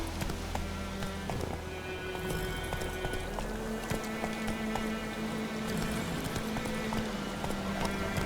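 Horse hooves galloping in The Witcher 3, a rapid steady clip-clop rhythm close by, with rain-like patter and ambient game sounds underneath.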